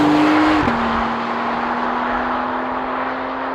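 A Porsche 911 of the 992 generation with standard exhaust cruises at steady speed, a broad rush of tyre roar dominating over a low, even engine hum, with a small gear-change dip early on.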